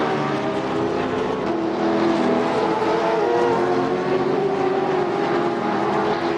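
Supercars race cars circulate on the track at Ruapuna, a steady loud engine roar holding throughout with slight swells as they pass, with no talking.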